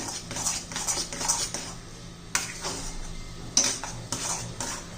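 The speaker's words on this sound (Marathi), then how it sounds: "आता व्यवस्थित मिक्स करून घेऊया" Jaggery lapshi being mixed with cardamom in a metal pot, heard as a steady series of light clinks and scrapes of a spoon against the pot, fairly close and moderately quiet.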